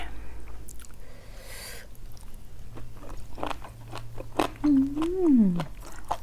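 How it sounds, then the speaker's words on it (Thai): Crunchy beef tripe being chewed up close, with crisp bites and wet mastication over low background noise, and a brief voice in the middle. "กรุบกรุบกรอบๆแล้ว่ะ"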